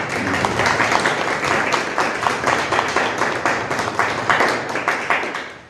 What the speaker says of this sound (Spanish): les pido un aplauso para nuestra hermana